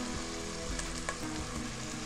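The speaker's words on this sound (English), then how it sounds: "to the melted butter, I'm gonna add some sliced onions." Sliced onions frying in melted butter for a tomato soup, giving a steady, dense sizzle with small crackles and pops close by, no voices over it.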